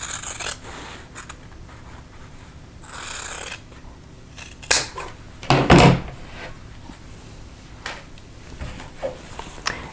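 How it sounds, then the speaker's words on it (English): Scissors trim fabric seam allowance on a quilt block, a few soft crisp snips and rustles of cloth scattered over a quiet room, with a couple of louder handling clunks. "So I'm going to trim this down to a 1/4 inch seam allowance."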